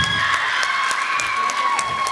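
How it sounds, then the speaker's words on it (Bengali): Audience clapping and cheering for a young girl after her dance performance, a steady close wash of applause over a held musical tone. "আপনারা হাততালি দিয়ে তাকে উৎসাহ দেন"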